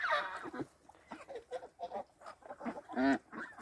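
Geese honk and cackle in a busy, irregular chorus as farmyard poultry are let out in the early morning, calls close and fairly loud with brief gaps between bursts.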